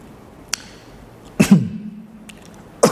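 Two brief, sharp coughs sound close by, separated by a pause, with a faint click just before the first.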